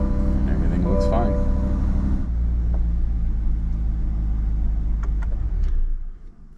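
C8 Corvette engine running with a deep, steady low rumble that shifts after a couple of seconds and cuts off near the end, with faint clicks and chimes above it.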